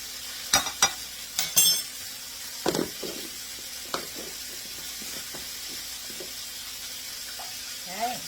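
Sugar being stirred into a pineapple chicken sauce in a pan, heard as a few sharp spoon clinks and scrapes early on, then quieter, sparse stirring sounds with faint background hiss.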